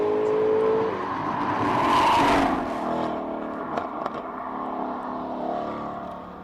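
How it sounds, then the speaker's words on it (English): A Ford Mustang race car at a hillclimb has its engine blipped through S-bends, a loud roar that swells and eases with throttle stabs, then a steady engine drone. "Sounds like the Mustang was stabbing on the throttle there a little bit through the S's"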